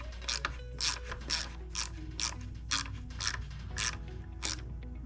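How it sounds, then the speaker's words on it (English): A hand wrench ratcheting while tightening the band on a Powerglide transmission, a steady series of about ten sharp, close clicking bursts at a regular rhythm over a low steady hum, with no talk. "I have now tightened the band"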